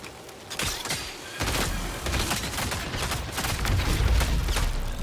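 Gunfire in the Marathon game, a rapid series of sharp shots and bursts over about five seconds, close and steady with heavier low booms toward the end, and no talk.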